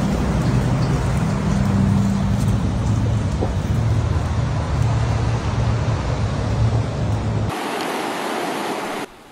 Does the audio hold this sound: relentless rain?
yes